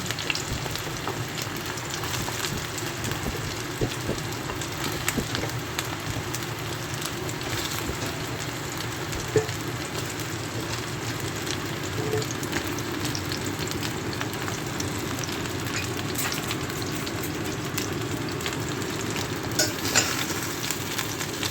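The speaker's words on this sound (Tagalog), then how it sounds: "mainit na yung ating mantika kaya nilagay ko na yung talong yan" Sliced eggplant fries in hot oil in a pan, giving a steady, dense sizzle and crackle that runs unbroken for about twenty seconds, with occasional faint stirring clicks and no talking.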